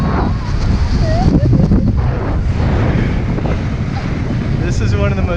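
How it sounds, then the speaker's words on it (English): Strong wind buffets the microphone high up on the StarFlyer, the world's tallest swing ride at ICON Park in Orlando, a steady loud roar throughout with brief voices mixed in. "Super crazy windy up here."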